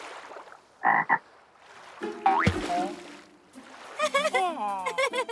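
A few croaking, frog-like calls mixed with playful voices and cartoonish sound effects; brief bursts, some sounding voiced or imitated.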